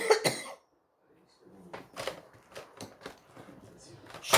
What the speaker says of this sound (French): j'arrête pas de tousser